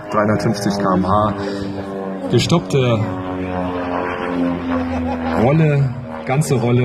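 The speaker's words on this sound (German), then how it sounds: "man hört das Flugzeug richtig pfeifen hier, wenn es ankommt mit Höchstgeschwindigkeit" A One Design Dr.1 aerobatic aircraft whistles past at top speed during a flying-day demonstration, its tone partly buried under a loud commentator talking over it.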